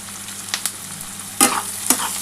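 Onions fry in oil with chilli powder and Kashmiri chilli powder in the pan, giving a steady sizzle broken by a few sharp stirring scrapes and spatula knocks.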